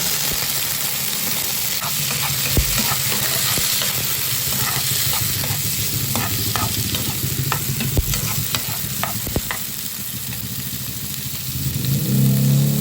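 Pechay greens fry in cooking oil in a home kitchen with a loud, steady sizzle, broken by scattered sharp clicks and scrapes of stirring and a low rumble in the background.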